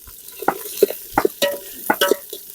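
Meat going into hot oil with mustard seeds, shallots, curry leaves and dried red chillies for a salt-fried curry cooked outdoors on a riverbank, heard as a run of separate stirring and sizzling bursts with no voice.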